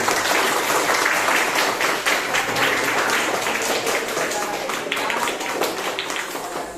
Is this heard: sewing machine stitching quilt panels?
no